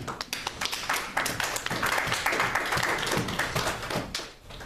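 A church congregation claps and applauds for Jesus Christ, a dense, steady patter of many hands that stays even throughout before easing slightly at the end.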